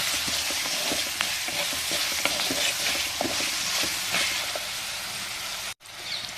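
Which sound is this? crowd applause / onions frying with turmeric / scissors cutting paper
onions frying with turmeric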